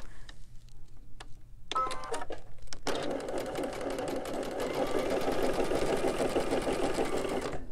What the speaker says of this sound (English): Now we're going to take these two pieces and sew them together